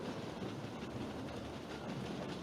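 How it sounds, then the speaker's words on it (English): Steady loud clickety-clack of a moving passenger train heard from inside, a continuous rumbling rattle with no voices over it. "It's hard to hear over the loud clacking of the train out here"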